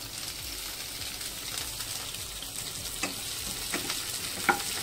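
Green chillies, garlic and curry leaves fry for a ginger curry with a steady, low sizzle, and light stirring clicks and taps grow more frequent toward the end.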